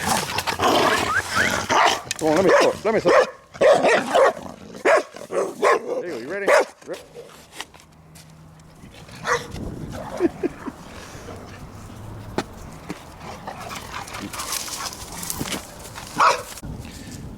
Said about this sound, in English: These dogs are always fighting over a stick.